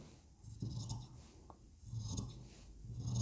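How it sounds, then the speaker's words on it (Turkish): Scissors cutting a single layer of dress fabric for a dress with leather details, making soft rhythmic snips and rasping glides that repeat every second or so, close but very quiet. "Tek katını kesiyorum. Şu anda kumaşımın tek katındayım."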